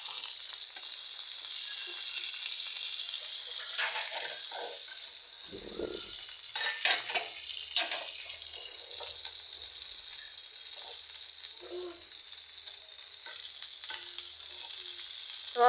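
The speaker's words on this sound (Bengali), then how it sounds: "ওই ফুলকপিটা ভাজতেছে" Cauliflower fries in a little oil for a rohu fish and cauliflower curry, a steady close sizzle running throughout, broken by several sharp scraping stirs of a spatula in the pan around the middle.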